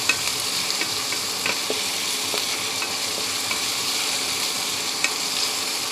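Onion and chilli frying in a pan over medium heat, a steady close crackling sizzle with faint stirring clicks running throughout, no voices.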